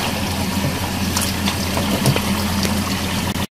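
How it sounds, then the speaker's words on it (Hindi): Water pours steadily into a clay pot of beef fried with spices, a continuous close splashing rush that ends with a brief cut near the finish. "अब मैं इसके अंदर पानी शामिल करूंगी ताकि हमारा जो बीफ का गोश्त है वो अच्छी तरह गल जाए"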